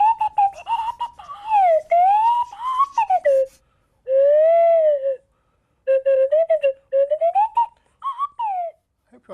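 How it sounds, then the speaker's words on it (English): A swanee whistle sounding Major Clanger's voice from The Clangers in a low register, sliding pitch in phrased bursts with pauses between, close and clear with no talk over it. "This is Major Clanger's whistle."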